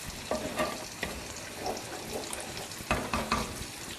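Thick Kovakkai gravy bubbling and popping in a pan, irregular soft bursts over a steady simmering hiss, close by.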